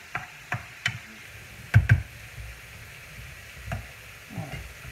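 Meat for lasagne cooks in a pan with a soft, steady sizzle, broken by a few sharp utensil knocks and scraping stirs against the pan.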